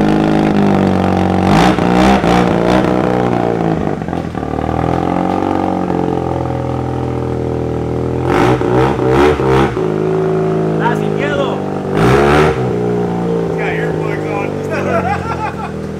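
Mazda RX7 rotary engine revving in a home build, with loud, close blips and rising revs repeated several times over a rough, buzzing idle, and someone speaks in between.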